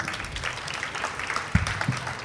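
A small audience claps for a young talent finalist at a radio fair in 2017, a brief, moderately loud patter of hands with a few sharper claps near the end.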